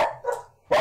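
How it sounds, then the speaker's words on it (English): A dog gives two short, close barks with a brief gap between them, loud and clear, alone. "dog barking resolved"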